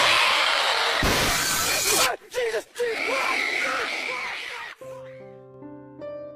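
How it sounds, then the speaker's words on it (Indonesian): Window glass shatters loudly as a woman jumps through it, a sudden crash followed by scattered breaking and jumbled voices, then a brief electronic musical tone at the end. "wanita tersebut tiba-tiba saja berteriak dan kemudian langsung melompat keluar memecahkan kaca jendela"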